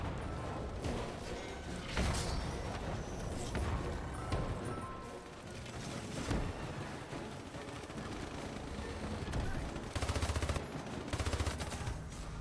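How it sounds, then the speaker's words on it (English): Pulse cannon fire in the video game Hypercharge: Unboxed, dense bursts of rapid repeated shots with loud peaks around two and ten seconds over a busy game soundscape. "That's where the pulse cannon comes into play."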